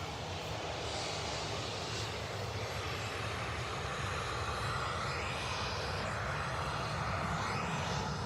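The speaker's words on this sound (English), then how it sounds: "How fast he's taxiing?" An airliner taxis quickly at Manchester Airport, its engines giving a steady, continuous roar that stays close and even throughout, with no voices.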